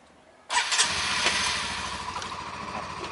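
Honda CBR150i motorcycle engine started by remote, bursting in abruptly after a short quiet and settling into a steady, close idle with a bright buzzing hiss.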